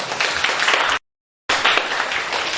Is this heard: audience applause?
yes